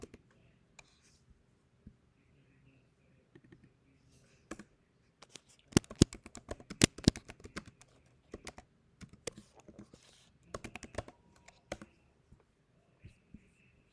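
Typing on a computer keyboard, irregular bursts of key clicks that cluster densely in the middle and thin out toward the end, close and fairly quiet, with no voice.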